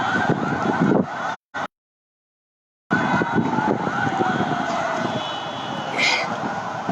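A fire brigade emergency vehicle's siren wails steadily at the site of a PIA passenger plane crash in a residential area of Karachi, loud and close, with engine and street noise around it and a brief cut to silence.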